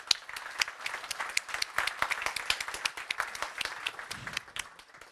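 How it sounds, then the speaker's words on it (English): Audience applause at the NATO Youth Summit in Stockholm: a fairly faint but dense spread of many hands clapping, irregular and continuous, with no talk over it. "And another applause."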